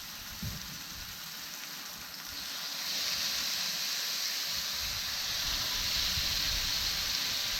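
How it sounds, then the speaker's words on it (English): Pieces of gator meat sizzle on an oiled, preheated grill, giving a steady, fairly quiet hiss that grows slightly louder partway through and then holds, with no voices. "Oh, listen to that sizzle."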